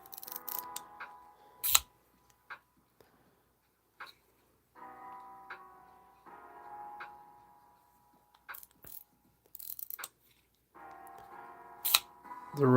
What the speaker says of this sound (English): The ratcheting bearings, man, gets me every time. Just sounds so cool.